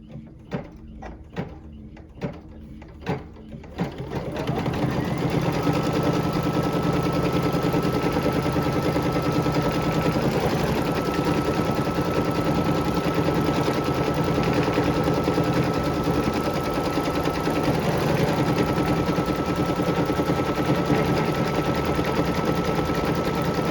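An embroidery machine stitches an appliqué, first a few separate clacks as the tack-down stitch begins, then a loud, steady rapid whirring run of stitching that carries on for nearly twenty seconds.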